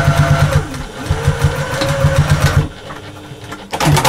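A sewing machine back stitches a seam on a slouchy bag, a quick pulsing whir that runs for a few seconds. It pauses, then starts again briefly, close by and loud.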